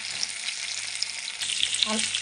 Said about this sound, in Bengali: আমি এখন এক এক করে আলুগুলো দিয়ে দেবো যাতে আলুগুলো লাল লাল করে ভাজা হয়